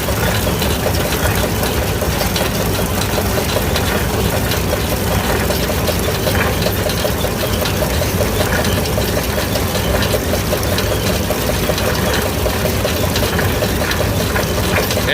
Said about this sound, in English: You can hear it, how it's starting to get quieter already, just from putting some oil on those chains.